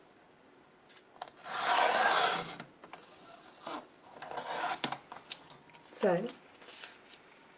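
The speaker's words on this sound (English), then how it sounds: "I've just trimmed a little bit off the edge." Paper sheets trimmed along the edge for a vintage-style journal kit, a soft scraping, rasping cut swelling for about a second and returning in shorter bursts, close and moderately loud, with someone speaking in between.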